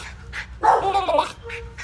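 A dog whimpers and whines in squeaky, Ewok-like yips, a few short cries building into a louder warbling burst in the middle, close by and alone.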